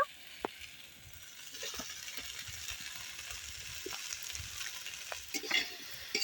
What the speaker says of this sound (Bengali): মশলার সাথে সবজিগুলোকে খুব ভালোভাবে একটু কষিয়ে নেব